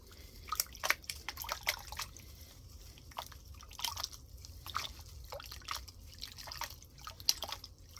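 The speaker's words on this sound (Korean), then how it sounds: "자, 물 떠왔어요. 한번 씻어 볼게요." Water splashing and dripping as a gazania or watsonia plant is rinsed in a container of fetched water, with irregular close trickles and drips and no talking.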